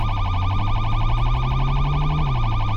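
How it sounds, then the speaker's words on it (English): A video game police car siren wails steadily and loudly, its electronic tone cycling fast and close, with a low engine rumble running underneath. "You can actually check its sirens."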